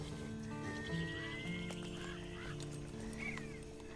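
A horse whinnies in Red Dead Redemption 2 Online amid game ambience and steady low background tones, with honking, goose-like calls mixed in; no one speaks.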